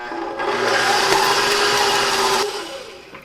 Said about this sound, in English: I'm going to stick the paddle on. And then we're going to cream this together for a little bit.